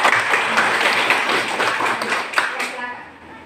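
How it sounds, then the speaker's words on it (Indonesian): A classroom full of students claps together for a group, a dense patter of applause that holds steady and then tapers off near the end. "Berikan tepuk tangan dulu untuk kelompok."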